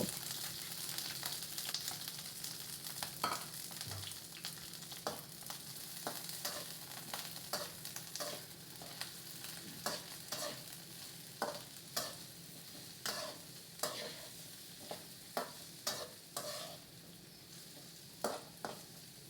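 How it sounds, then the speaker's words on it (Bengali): Ingredients fry and get stirred in hot soybean oil for a Bengali bharta, a steady sizzle running underneath while repeated sharp scrapes and clacks of the spoon against the pan keep a loose, regular rhythm throughout. "তেলটা একটু ভালোভাবে গরম করে নিচ্ছি এখন এই উপকরণগুলো দিয়ে দিচ্ছি ভালো করে ভেজে নেব"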